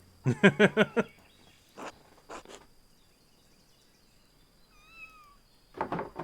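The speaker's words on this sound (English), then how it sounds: "Cats are over there." Cats meow inside the Pentiment video game, a quick run of short cries at the start followed by a few scattered meows and one last burst near the end, with a faint whistling bird-like tone in between.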